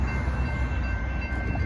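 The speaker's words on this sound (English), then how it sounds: "And here comes that train." A passing train, with a rebuilt AC6000CW locomotive on the line, rumbles as a steady, loud low roar throughout with no talk.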